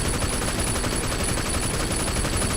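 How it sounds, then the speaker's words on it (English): Dense, continuous gunfire from enemies shooting at the player's car in the video game Sleeping Dogs: Definitive Edition, loud and unbroken throughout with no pauses. "there's already people shooting at us"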